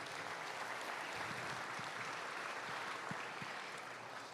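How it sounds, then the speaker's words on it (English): Audience at a youth livestock expo applauds steadily for Travis, a dense, even wash of clapping from a sizeable crowd that holds level throughout with no voices on top. "give Travis a big round of applause for me"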